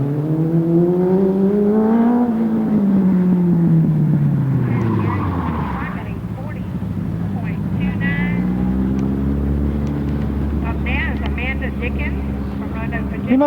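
A Datsun 240Z pulls hard through first gear on an autocross course, its engine note climbing and falling through loud revving sweeps, with people talking over it throughout.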